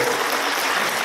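Applause from a church congregation during a Korean Presbyterian Sunday worship service, a steady, dense clapping that carries on evenly through the whole brief moment without voices.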